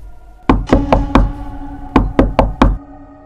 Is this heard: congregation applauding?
no